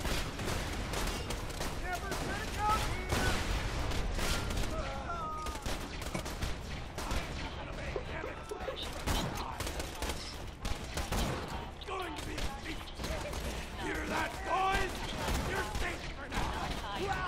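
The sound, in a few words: gunfire in the video game Borderlands 2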